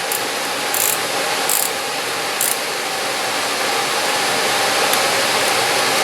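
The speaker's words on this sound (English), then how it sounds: "Set the ratchet to tighten." Ratchet tightening plastic fan shroud bolts on a Toyota Matrix during a cooling fan change, heard as a few brief clicks over a loud, steady background rush.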